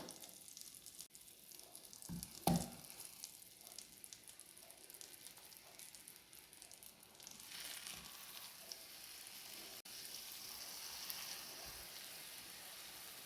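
Chicken pieces frying in butter in a pan give a soft, steady sizzle and hiss throughout, with one brief clunk near the start and no voices.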